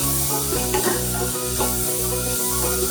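Chopped vegetables such as carrot sauté in a pan for rava kichadi, with a loud continuous sizzle, repeated stirring scrapes and a low steady hum underneath.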